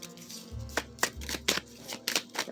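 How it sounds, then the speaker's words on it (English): An oracle card deck is shuffled at close range in a run of crisp riffling bursts, with soft low thumps between them. "Let's shuffle again."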